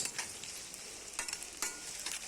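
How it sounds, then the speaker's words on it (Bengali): Onions fry and get stirred in a pan for a broiler chicken dish, giving a steady close hiss of oil broken by a few scraping stirs, with no talking. "এরপর পেঁয়াজগুলো দিয়ে দিলাম পেঁয়াজগুলো একটু লাড়ি চাড়ি দিলাম"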